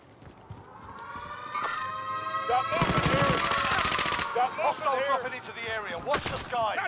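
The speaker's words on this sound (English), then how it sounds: "Teammate shooting someone." Gunfire in Call of Duty: Modern Warfare, with a burst of rapid automatic shots in the middle over background game sound and ringing tones, followed by scattered shots.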